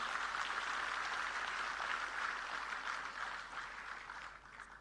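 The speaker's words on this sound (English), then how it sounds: "Give a big applause for our SRM team." Audience applause at the inauguration of a quantum reference facility in Amaravati, a steady wash of clapping that slowly fades toward the end, moderately distant and alone.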